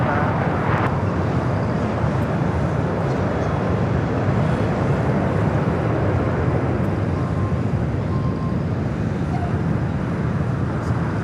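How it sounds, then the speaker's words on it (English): A Hawaiian Airlines Airbus A330-200 arriving on the south side at LAX, its engines giving a broad, steady roar that holds loud and even throughout, with faint background talk. "Hawaiian A330-200 next arrival here on the south side"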